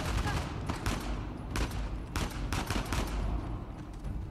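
Gunfire in the video game Uncharted: The Lost Legacy, a close barrage of loud repeated shots in irregular bursts over a rumbling background.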